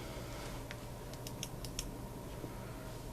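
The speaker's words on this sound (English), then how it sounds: "my keyboard went crazy" Keystrokes on a computer keyboard, a few faint scattered clicks over a steady low hum.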